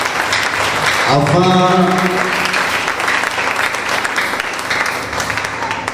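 A church congregation applauding at a prayer service, a steady dense clapping from many hands filling the room, with a voice speaking briefly over it.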